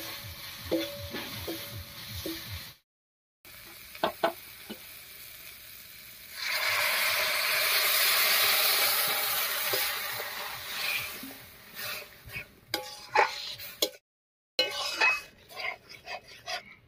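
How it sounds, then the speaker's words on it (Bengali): A spoon stirs moong dal with cooked drumstick leaves in a pan, giving soft repeated scrapes and clatters over a gentle sizzle that swells in the middle. There are a couple of brief silent gaps. "সজনে পাতার সঙ্গে খুব ভালো করে মিশিয়ে নিয়েছি।"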